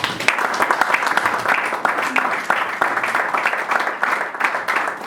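Church congregation applauding and acclaiming the Lord during a French-language sermon, a rhythmic wash of clapping with voices calling out beneath, steady and moderately loud throughout.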